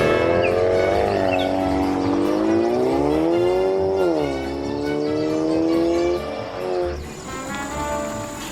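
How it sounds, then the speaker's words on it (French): A video game car starts up and drives off, its engine note rising steadily in pitch as it revs and accelerates, dipping between gear changes, loud and continuous with no one talking. "notre voiture va démarrer et nous allons continuer notre chemin"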